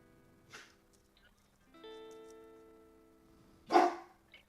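A dog growls and gives a couple of short barks indoors, fairly close and moderate in level, with quiet gaps and a louder bark near the end.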